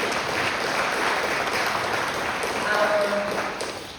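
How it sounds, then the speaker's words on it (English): Audience applause at a bipartisan forum with the U.S. Conference of Mayors, a steady wash of clapping from a large crowd, fairly distant and even, sustained for several seconds. "Please give him a round of"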